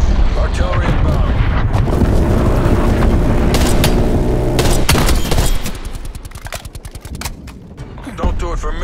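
Artillery strike in the shooter game Call of Duty Black Ops Cold War: a loud, dense barrage of heavy booms and blasts rolls on for several seconds, then thins into scattered rapid gunfire with a voice speaking over it.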